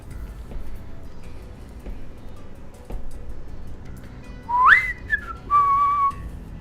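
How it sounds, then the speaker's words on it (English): Someone whistles a short rising note followed by a longer steady tone near the end, over a low background hum. "There I go whistling again"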